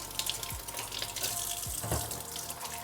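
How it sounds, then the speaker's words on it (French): Tap water runs steadily into a sink while sweet potatoes are rinsed to remove soil, a soft continuous splashing with a few brief knocks of handling. "Pareil, patates douces, vous pouvez commencer à les rincer."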